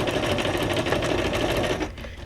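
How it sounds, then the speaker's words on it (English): A regular household sewing machine runs a zigzag stitch with neutral thread, a steady rapid mechanical chatter close by that cuts off near the end, with no talk. "I'm just using a neutral thread on a regular zigzag stitch"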